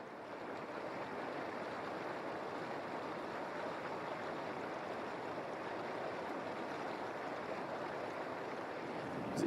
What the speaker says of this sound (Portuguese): Nascentes de água quente extremamente ácidas borbulham